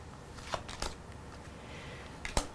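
Tarot cards being shuffled by hand in a quiet room, a few soft papery riffles and flicks scattered across a low background hiss, with a sharper snap near the end and no talking.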